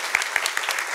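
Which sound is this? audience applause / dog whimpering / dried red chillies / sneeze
audience applause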